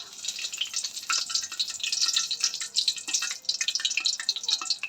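Bay leaves dropped into hot fat for pulao give a bright, crackling sizzle with busy spitting pops, steady and close throughout, with no talk.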